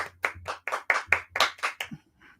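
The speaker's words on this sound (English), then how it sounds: "A round of applause, everyone," A small group claps by hand on a morning show, about eight close, distinct claps in a quick, slightly uneven rhythm, followed by a faint trailing sound.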